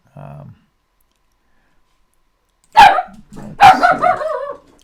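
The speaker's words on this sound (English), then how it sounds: "Sorry about the dog there." A dog barks twice in quick succession, loud and close, with a short yip-like sound just before and a faint voice sound at the start, in an otherwise quiet room.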